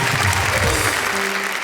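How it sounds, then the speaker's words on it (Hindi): An audience at a Hindi poetry stage show breaks into steady, dense applause, loud and close, with no voices over the clapping. "तो भाई जरा अपरा मेहता के लिए तालियां हो जाए भाई,"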